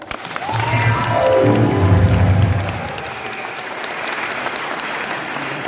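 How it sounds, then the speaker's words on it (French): Cheering and applause erupt from a congregation at a baptism service, a loud burst of clapping with shouts and whoops that peaks early, then settles into a sustained, softer round of clapping. "Les acclamations."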